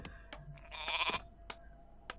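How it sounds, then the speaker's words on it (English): Sheep bleating in the strategy game Warcraft 3, several short bleats over about two seconds with faint game clicks, fairly quiet and with no talk. "Shall I kill the sheep?"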